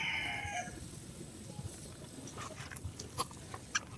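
Sweater-line gamefowl roosters at a gamefarm give a faint, distant crow amid steady outdoor background noise, with a few sharp clicks and knocks near the end.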